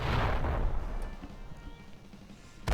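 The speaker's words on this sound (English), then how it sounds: "But then the artillery shells started to fall." Deep booms of artillery shells falling in a Roblox World War 1 battle, a heavy rumbling blast that fades out, then a sharp new impact at the end.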